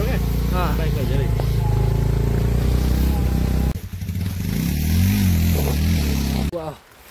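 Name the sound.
motorcycle engine while riding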